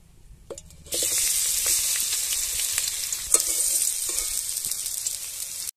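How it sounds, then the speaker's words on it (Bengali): Okra and potato pieces coated in gram flour drop into hot oil, which breaks into a steady, loud sizzle that holds throughout, with a few soft stirring clicks. "এরপরে কড়াইতে তেল দিয়ে এরপরে এগুলোকে আমি ভেজে নেব।"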